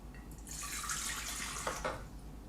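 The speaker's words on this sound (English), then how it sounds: "So we're going to start out with 1 cup of lukewarm water." Lukewarm water pours steadily into a bowl for sourdough bread dough, a close, continuous splashing stream lasting a couple of seconds with no talking.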